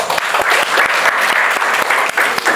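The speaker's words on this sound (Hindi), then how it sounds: "ताली बजा दीजिए इनके लिए" Students in a chemistry classroom clap together, loud and close, a dense burst of applause with sharp individual claps standing out, lasting a couple of seconds.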